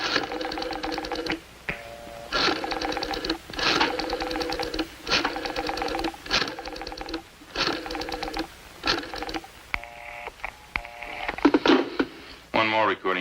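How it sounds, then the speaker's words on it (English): Rotary or push-button telephone being dialed on an old radio police drama, a run of repeated tonal clicks in bursts, with voices speaking around it. "Dial 9."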